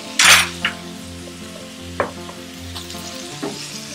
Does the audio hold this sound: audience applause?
no